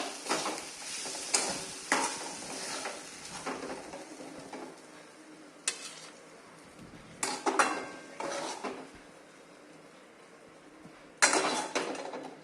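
Cooked cluster beans are scooped out of a pan onto a plate with a metal spoon, giving irregular scraping and clinking from utensils and cookware, loud at moments and quieter between, with no talk.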